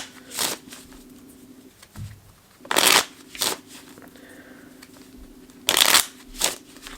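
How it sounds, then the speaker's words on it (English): Playing cards being shuffled up close in three quick riffling bursts separated by pauses, with a faint background hum between them. "We will put the 7 of clubs back in and shuffle for our last draw."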